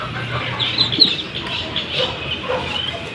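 Chickens clucking near a coop as the chicks are let out, a steady mix of soft clucks and calls close by with some bird chatter over farmyard background.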